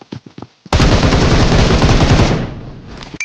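A loud, sustained burst of automatic gunfire in BGMI/PUBG, starting after a few sharp single shots and continuing steadily for a couple of seconds before fading, with no voices over it.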